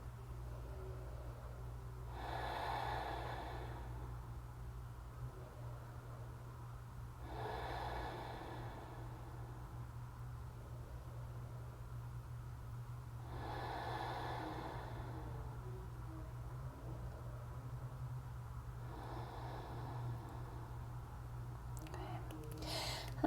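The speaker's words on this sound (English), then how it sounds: "Let's take about 5 more deep breaths." Four slow, deep breaths during a yoga stretch for IT band relief, each a broad airy exhale of a few seconds spaced evenly apart, close and clear over a steady low hum, with no talking.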